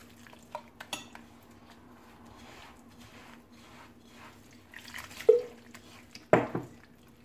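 Yeast, water and semolina dough being mixed in a bowl: sparse, quiet clinks and scrapes of a utensil against the bowl, with a few sharper knocks near the end against a near-silent background.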